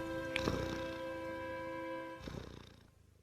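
A cat purrs steadily up close, a low rumbling drone with a soft pause and a second breathy stretch that fades out.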